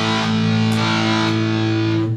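An electric guitar through a Boss DS-2 distortion pedal in turbo mode rings out a sustained chord, thick and buzzing, loud and alone.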